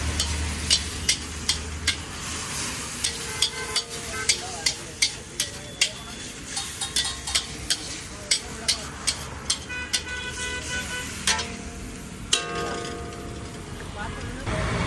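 A special chutney is stirred and roasted in a pan for moong pulao, a steady sizzle under regular scraping strokes of a spoon against the metal, with a voice talking throughout.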